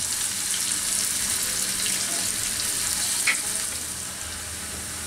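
Chopped garlic, a few cloves' worth, frying in a pan with onions: an even, bright sizzle close by that holds steady, one short sharp crackle partway through, then eases slightly toward the end, with no talking.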